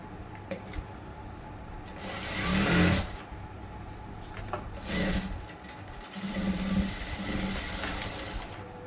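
A sewing machine running a second stitch line on a kurti, whirring in a few bursts that swell and fade, with mechanical clatter and quieter gaps between runs.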